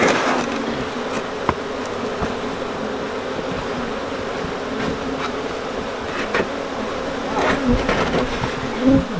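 A swarm of about forty thousand honey bees being moved into a new hive, buzzing as a steady, close drone throughout, with a few faint knocks and soft shuffling sounds.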